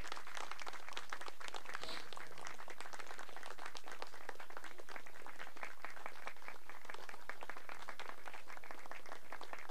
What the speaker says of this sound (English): Find them and applaud them. Stand up. Give them a standing ovation.